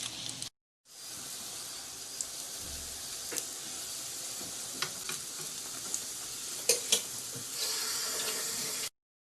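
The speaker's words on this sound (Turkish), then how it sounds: "Şimdi ters çeviriyoruz sigara böreğini. Diğer tarafını da pişiriyoruz." Steady, dense sizzling of potato-filled pastry rolls frying in hot oil in a pan, with a few crackles and pops and a brief gap near the start.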